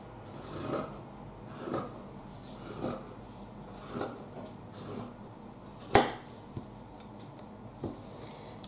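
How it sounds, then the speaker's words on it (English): Scissors cut through T-shirt fabric in a slow, regular series of crisp snips about once a second, close and fairly quiet, with one sharper click partway through. "I'm going to cut off the neckline"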